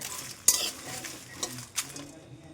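Whole spices sizzle and crackle in a hot pan, with a few sharp scraping stirs and clinks punctuating the steady frying hiss.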